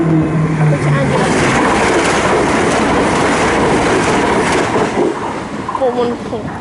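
Train rushing past the Brimsdown level crossing in East Enfield, a loud, dense roar with rail clatter that eases off near the end, with a voice audible briefly over it.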